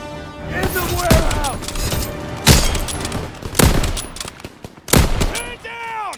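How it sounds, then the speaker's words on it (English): Heavy gunfire in a video game, loud and close, with rapid automatic bursts and sharp single shots ringing out, and shouted voices mixed in. "Taking heavy fire!"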